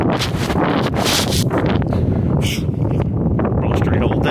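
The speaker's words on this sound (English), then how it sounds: "Blustery whole day." Blustery wind buffets the microphone on the Appalachian Trail in the Smoky Mountains near Siler's Bald, a steady roaring rumble filling the clip with gusty rustling, and a voice talks faintly underneath.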